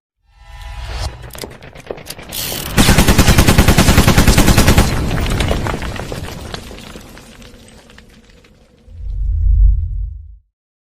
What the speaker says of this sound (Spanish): Era una cantidad impresionante de muertes lo que ocasionaban estos artefactos, las ametralladoras.